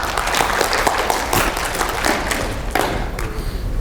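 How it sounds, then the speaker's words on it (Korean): Audience applause at a Korean lecture on artificial intelligence, a dense, steady patter of clapping with a few sharper claps, fairly close and filling the whole stretch without talk. "박수. 박수."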